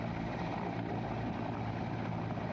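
An army rescue helicopter flies over a flooded village in Solapur during heavy rain, its steady whirring rotor and engine drone continuous and fairly distant, with no talk.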